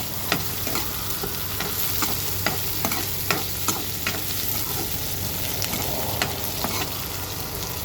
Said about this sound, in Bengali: অলরেডি সব কিছু একসাথে নিয়ে ভাজতেছি